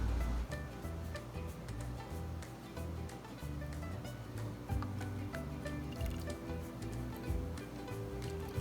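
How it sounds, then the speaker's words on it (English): Simple syrup is poured into a jar of canned apricots, a steady close trickle with small drips and liquid splashes, heard alone without talk. "we're going to refill it with a little bit of the simple syrup again"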